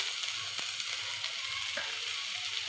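Onion frying in a pan gives a steady, loud, close sizzle, with a few faint stirring scrapes and no voices.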